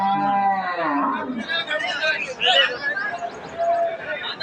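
At a cattle market, a cow with her calf gives one long, drawn-out moo nearby, and then the crowd chatter and people talking take over.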